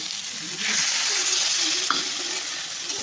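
Mustard powder tipped into a hot frying pan, setting off a steady, close hiss of sizzling oil that swells slightly, with a brief clink partway through.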